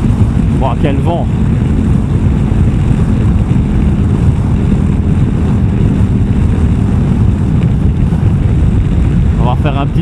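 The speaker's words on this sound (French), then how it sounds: "Quel vent!" Strong wind buffeting a microphone while riding a KTM motorcycle, with a deep, constant roar, loud and unbroken, and faint brief voices in the background.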